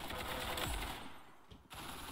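Rapid automatic gunfire from a weapon in the Roblox game Arsenal, a fast rattling burst that carries for about a second, thins out, then resumes briefly near the end at steady loudness.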